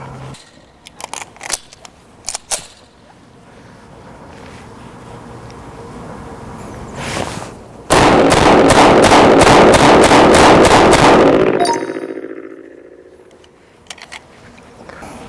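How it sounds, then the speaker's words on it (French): A CZ TS2 pistol fires a rapid string of about ten sharp, loud shots in quick even succession, preceded by scattered handling clicks and followed by a brief ringing tail. "on va enchaîner sur le tir rapide, donc le plus vite possible, sur le visuel avec le CZ TS2"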